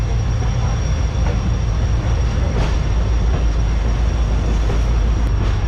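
Pak Business Express train rumbling steadily along the track in winter while overtaking the stationary Millat Express, a continuous loud low roar with faint clatter throughout.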